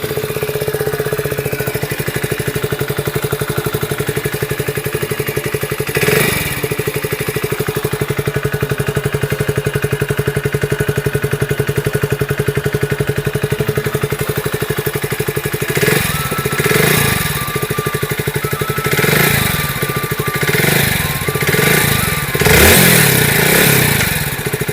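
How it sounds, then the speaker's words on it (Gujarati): A motorcycle engine, started with the key and the electric start switch, settles into a steady mid-pitched idle with a clattering rhythm, then gives several short throttle blips near the end, loud and close with no talk. "અહીંયા ચાવી ઓન કરી છે અને ત્યાર પછી અહીંયાથી સ્વિચ આપેલી તે સ્વિચ દબાવીએ"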